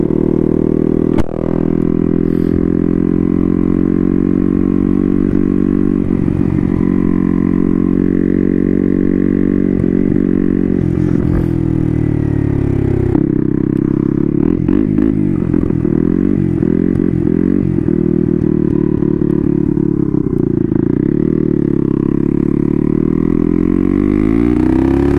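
A Honda Grom with a turbocharged CBR engine swap being ridden in first gear, with the clutch slipped under load. The engine drones loud and close throughout, its pitch rising and falling with the throttle, with occasional rattling clatter.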